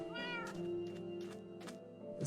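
A Minecraft cat lets out a drawn-out meow near the start, followed by a few fainter mews and soft clicks, nearby and without talk.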